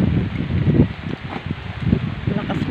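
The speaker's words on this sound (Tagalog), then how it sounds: "Lakas pa rin ang hangin" Strong typhoon wind gusts buffet the microphone outdoors amid damaged banana plants, a steady low roar with surges; people talk over it.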